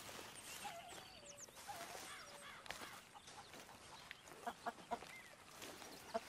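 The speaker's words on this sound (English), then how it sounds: "Hello, chickens." Chickens cluck and squawk at a camp in Red Dead Redemption 2, quiet and somewhat distant with scattered short calls amid soft ambient outdoor noise.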